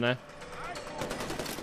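Gunfire in the video game Far Cry 4: a sharp burst at the start, then a rough rattle of shots running on underneath a man's speech.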